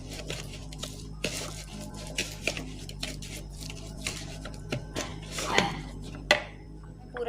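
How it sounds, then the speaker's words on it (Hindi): Sugar, melted ghee and baking powder for nan khatai are mixed in a bowl, giving a series of irregular close taps, scrapes and squishy thuds at an uneven rhythm. "अब हम तमाम चीज़ों को अच्छे से मिक्स कर लेते हैं। चीनी, घी और बेकिंग पाउडर"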